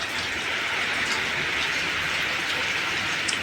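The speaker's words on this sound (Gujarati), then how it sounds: "એટલો બધો વરસાદ છે ફૂલ ખતરનાક વરસાદ ચાલુ છે" Heavy unseasonal rain in Kutch pours down in a dense, steady hiss, unbroken from start to finish, with occasional louder drops splashing close by.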